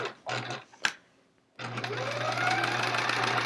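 Sewing machine stitching quilt rows for a chevron-pattern quilt, with a short burst of stitching, a pause, then a steady sustained hum of running stitches close by.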